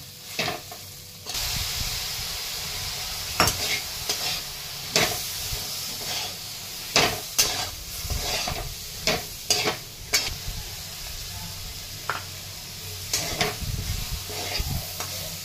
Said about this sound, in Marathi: छान परतून घ्यायचे आहेत आपल्याला।